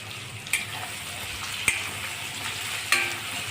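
Onion sautéing in a pan with green and red chillies, a steady close sizzle broken by three sharp clicks of a spoon stirring against the pan.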